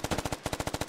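Rapid automatic gunfire from the Squad military shooter game, a steady rhythm of about a dozen sharp bursts in under a second with a brief gap, loud and close, with no talking.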